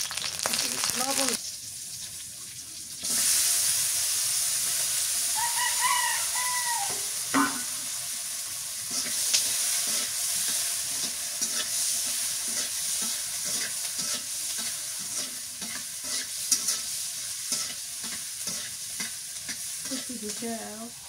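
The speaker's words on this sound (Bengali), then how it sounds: "পেঁয়াজ মরিচ রসুন তেলে ভেজে নিলাম" Onion, chili and garlic fry in oil with a steady, close sizzle, broken by stirring scrapes and clinks against the pan.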